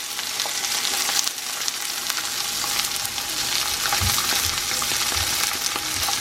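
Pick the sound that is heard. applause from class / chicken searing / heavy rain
chicken searing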